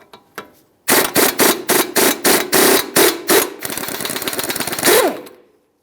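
An impact wrench rattles off the 24mm lower ball joint nut on a 2006-2012 Ford Fusion, starting with a dozen loud, evenly spaced hammering bursts and then a steady buzzing spin before it stops, with no talking.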